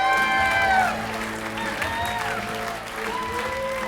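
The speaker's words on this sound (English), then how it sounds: "How about a big round of applause for little Freddie?" A comedy bootcamp audience breaks into a burst of clapping for a comedian being brought on stage, loud at first and then tapering slightly while talk sounds through it.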